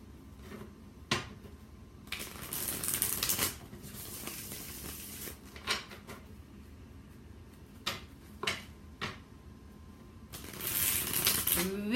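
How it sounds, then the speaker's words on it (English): A Connolly Tarot deck being shuffled by hand in several separate bursts of riffling and card clicks, close and fairly quiet, with short pauses and snaps between them. "Really like the way these cards shuffle."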